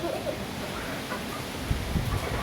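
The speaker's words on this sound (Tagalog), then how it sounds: "Ayan yung mga manok na panabong pwedeng katayin" Gamecocks cluck faintly outdoors against steady strong wind noise, with a few short fowl calls scattered through the stretch.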